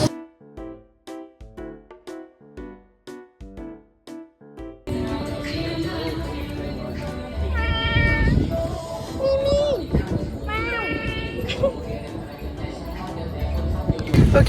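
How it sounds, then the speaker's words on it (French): Kittens meow in a few short, rising cries near a beach by a hotel on Koh Phi Phi, Thailand, set against busy background noise and voices, after a stretch of rhythmic music. "il y a des petits chats"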